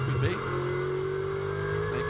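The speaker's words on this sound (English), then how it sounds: "I was going to say Gounon because it sounds Mercedes-ish, that, more than Porsche-ish to me." A Mercedes race car engine revving as heard from onboard, a loud sustained engine drone with a rising pitch under continuous commentary talk.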